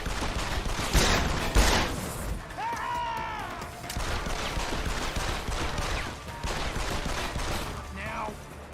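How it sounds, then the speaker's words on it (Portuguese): Gunfire rattles through a shootout in the video game Deus Ex: Human Revolution, bursts and clattering shots layered over continuous game noise with a couple of rising electronic tones. "Eu não queria tiroteio."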